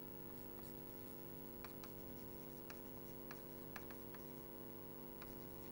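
Faint scratching of a pen or chalk writing a formula during a lecture, a few soft strokes over a steady electrical hum with no speech.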